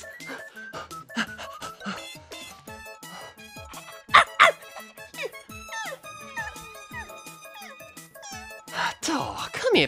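A small cartoon dog in a Super Mario animation yaps and barks in quick irregular bursts, close and sharp, mixed with squeaky whimpers and playful cartoonish sound effects.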